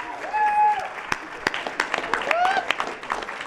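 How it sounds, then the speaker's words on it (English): Scattered audience applause at a space hackathon award ceremony, with sharp individual claps over a light crowd murmur and some whistles or cheers. "Can we get a round of applause for her too?"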